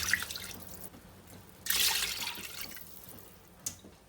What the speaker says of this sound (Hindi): मैं इसके अंदर 3 ग्लास जो हैं पानी के ऐड